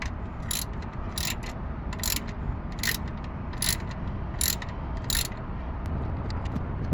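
A ratchet clicks in short, evenly spaced bursts while turning the 15 mm oil drain plug on a 1997 Ford Taurus 3.0L V6, close and crisp over a low steady background hum.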